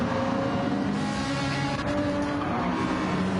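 McLaren and Supra race cars in a racing video game on a forest track, with engines droning steadily at high revs, close and sustained, with no voices.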